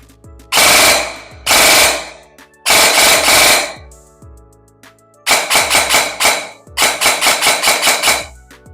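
A GelBlaster GBR Copper Head gel blaster fires loud, close bursts, first a few separate semi-auto shots and then rapid full-auto strings of evenly spaced snaps.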